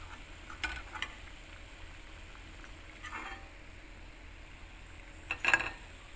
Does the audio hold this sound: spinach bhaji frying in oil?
yes